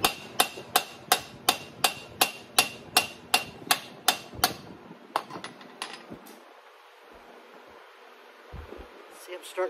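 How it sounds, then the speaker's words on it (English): A reverse curve hammer strikes sheet metal during repair of a 1941 Chevy rear window: about a dozen sharp, evenly spaced metallic blows ring out close by, then the hammering stops and a few scattered lighter taps follow in a quieter room. "Usually I like to swing this way, but I'm using the other side of the reverse curve hammer."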